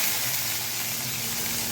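Onion fries in hot mustard oil for a Bengali fish-head curry, giving a steady, close sizzle that holds evenly under a soft hiss with no voices.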